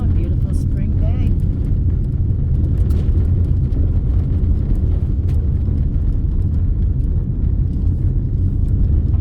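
A car rolls steadily along a US Forest Service gravel road, USFS 67, on a spring day, its low engine and tire rumble loud and continuous throughout with no break.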